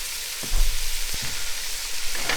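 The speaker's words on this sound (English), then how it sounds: "Get the onions in and just brown those together." Onions browning in a hot pan give a steady close sizzle with a couple of brief stirring scrapes, no voices over it.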